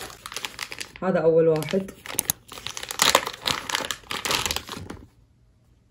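Crinkly plastic packaging around a pair of socks being torn open and handled, crackling in close, fairly loud bursts between and under a person's talking.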